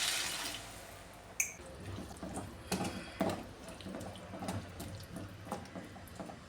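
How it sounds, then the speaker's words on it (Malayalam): Water is poured from a cup into a hot pan of roasted flour for an idiyappam potato stew, giving a steady splashing, running-water sound at moderate level with a few sharper knocks, and no talking. "ഇനി ഇത് വേവാൻ ആവശ്യത്തിലുള്ള വെള്ളം ഒഴിച്ചു കൊടുക്കാം ഇതിലേക്ക്"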